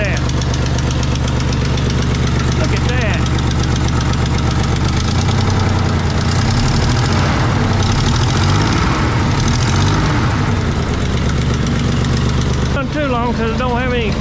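Neglected 1977 Datsun 280Z engine running after its first start, a loud steady rough idle with knocking texture throughout, close by, with voices talking over it.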